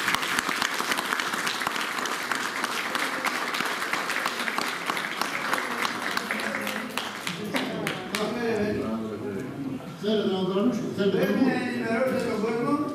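Audience applause at an outdoor campaign speech in Chora, steady dense clapping for several seconds that thins out as voices and talk take over toward the end.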